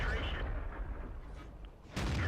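A T69 tank fires its cannon in World of Tanks: a loud, booming shot at the start, then a rumbling lull and a second heavy blast near the end.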